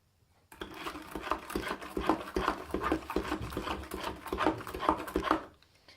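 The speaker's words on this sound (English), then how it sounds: "So I'm just stirring this until all the sugar is dissolved" Sugar is stirred into nettle wine until it dissolves, a close, busy rasping and gritty scraping of a spoon through the liquid, starting abruptly and fading out at the end, with no one talking.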